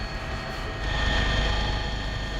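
An air ambulance doctor helicopter flies overhead in a steady, fairly loud engine drone that swells slightly partway through, with no voices.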